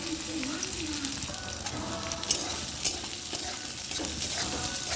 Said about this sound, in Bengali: তো বিনসগুলোকে আমি একটু ভাজবো প্রথমে।